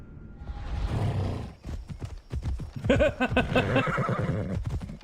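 Rhythmic hoofbeats clop steadily, then a loud horse whinny from Assassin's Creed Odyssey rises over them and trails off, with a continuous rumbling backdrop.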